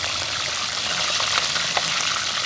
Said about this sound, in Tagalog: magpiprito tayo dito ng galunggong sa labas.